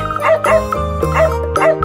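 A dog gives a string of short, yippy bow-wow barks in a steady rhythm over a cheerful children's alphabet song, loud and up front.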